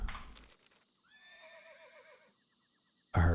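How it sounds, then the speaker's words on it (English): A horse in World of Warcraft whinnies once in a long, shaky neigh, fairly clear against quiet, followed by a sudden loud burst of noise. "I heard a horse."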